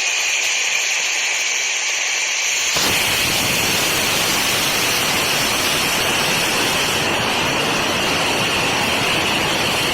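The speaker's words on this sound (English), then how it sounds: "This is attempt number 8, where we fully throttled the nitrous" A hybrid rocket motor fires on a test stand with its nitrous fully throttled, bursting suddenly into a loud, steady roaring hiss that holds without a break.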